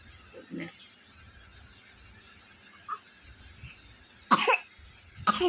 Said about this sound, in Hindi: क्या हुआ बेटा, खांसी क्यों आ रही है?